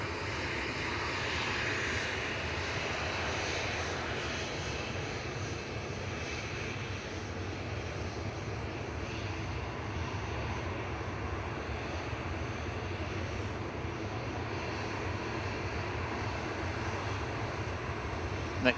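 A Finnair Embraer E190 at Manchester Airport, a steady moderate jet engine rumble that continues evenly for the whole stretch, somewhat distant, with no speech on top.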